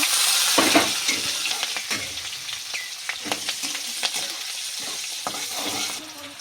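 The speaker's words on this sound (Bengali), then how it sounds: "রসুনটা ভাজা গেছে এর ভিতরে আমরা একটু লঙ্কা দিয়ে দিচ্ছি" Green chillies drop into garlic already frying in hot oil in a wok for a ghetkol dish, giving a loud, steady sizzle with brief stirring clatters throughout and no talking.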